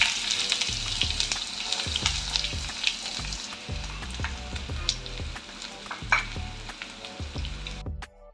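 Onion and mustard seeds fry in hot oil in a pan for a bitter gourd and egg stir-fry. A close, steady sizzle carries sharp seed pops and rhythmic spoon scrapes, with no speech.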